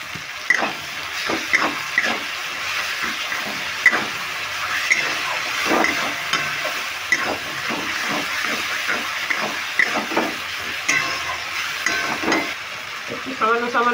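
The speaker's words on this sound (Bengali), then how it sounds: "একটু সামান্য জল দিয়ে আমি মশলাটাকে ভালো করে কষিয়ে নিই।" Spice paste with Kashmiri chili powder and a splash of water frying in a pan for a fish-head and cabbage dish, giving a steady close hiss and sizzle with repeated stirring scrapes throughout.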